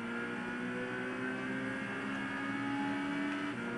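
Race car engine in a sim racing game during a Saturday night online race, a steady droning motor with sustained whine held at constant revs, loud and continuous with no talk.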